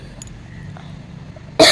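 A single sharp cough bursts out at the very end after near silence, close and loud.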